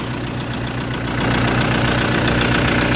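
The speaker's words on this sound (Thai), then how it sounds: "อันนี้ก็จะเป็นเครื่องยนต์ทีสูสามพันเทอร์โบนะคะ" A 3000 turbo engine fitted to a rice harvester runs at a steady idle, close and loud with an even, throbbing rumble and no voices.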